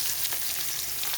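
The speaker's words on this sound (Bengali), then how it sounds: "এবার পেঁয়াজটাকে আমি একটু লাল করে ভেজে নেব।" Chopped onions sizzle steadily in hot oil in a kadai, a dense continuous frying hiss with a few soft stirring scrapes, close and without voices.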